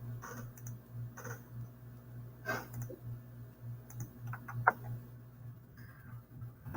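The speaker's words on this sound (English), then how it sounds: "So I'm going to type that out in here." Rapid keystrokes tapped on a computer keyboard in bursts with pauses, up close and fairly quiet over a steady low hum, with no talking.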